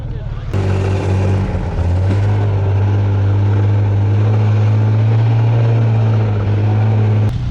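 A struggling snowmobile engine riding through deep snow in Andorra, a loud continuous drone that rises after a brief dip and holds steady, with voices over it.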